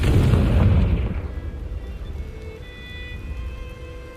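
A Confringo fire spell explodes in Hogwarts Legacy with one loud, deep boom that rolls off into a long rumbling decay and faint crackle, with no one talking.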